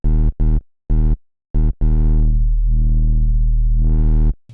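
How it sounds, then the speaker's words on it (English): Simple sine wave synth patch in Ableton Operator, heavily distorted with the filter drive cranked, loud buzzy tones in several short stabs, then a long sustained note that sweeps down and back up before cutting off. "we're going to just use a simple sine wave and, distort it"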